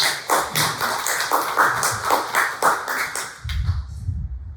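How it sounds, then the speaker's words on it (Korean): Rapid, irregular clapping from a small church congregation, loud and close, fading out abruptly near the end with a low thump. "박수 한번 쳐주세요"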